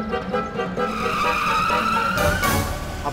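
A car speeds off with tires skidding, a loud sustained squeal over engine roar that swells near the end, with no speech.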